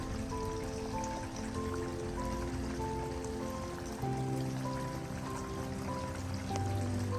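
Water washes gold ore through a sluice box while a 10 lb ore sample is processed, making a steady trickling and rushing flow with light splashes, continuous and moderately faint, with no talk.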